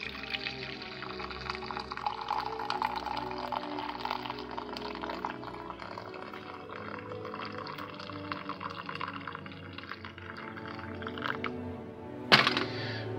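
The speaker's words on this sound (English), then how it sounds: "I'm going to pour ourselves a cup." Hot green coffee pours from a press into a cup, a continuous liquid stream with small drips, ending in a short clink near the finish.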